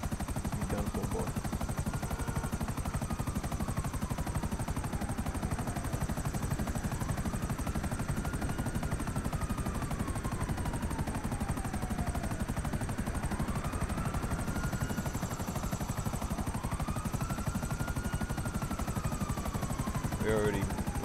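A helicopter in the video game GTA Online hovers and flies steadily close by, its loud rotor and engine drone continuous throughout, with pitch sweeping up and down as it maneuvers and faint gunfire-like bursts in the mix.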